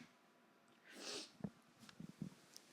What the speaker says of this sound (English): I'm about to sneeze and cough or something at the same time.